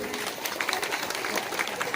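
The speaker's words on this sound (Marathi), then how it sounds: "आता टाळ्या थांबल्या नाही पाहिजेत" An audience at a Marathi village panchayat award ceremony claps steadily and densely, a continuous patter of many hands with a voice faintly over it.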